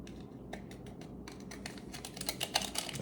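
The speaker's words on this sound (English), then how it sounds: "just cut that open and dump it in there" Scissors snip open a milk package with a rapid run of crisp clicks and cuts that grow louder and denser toward the end, close and alone.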